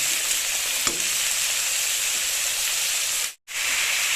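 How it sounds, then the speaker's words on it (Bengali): Small diced potatoes frying in oil for a Bengali jhinge aloo posto, a loud continuous sizzle with a sharp stirring clack near the start and a brief cut to silence near the end. "ভালো করে নেড়ে চেড়ে ভেজে নেব এই আলুটাকেও লাল করে ভাজতে হবে"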